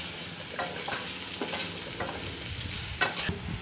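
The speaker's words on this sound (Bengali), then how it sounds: "তেলের মধ্যে পেঁয়াজ কুচিগুলো দিয়ে দিচ্ছি।" Chopped onions fry in hot oil for a rupchand fish curry, giving a soft, continuous sizzle with a few scraping stirs of a spoon against the pan.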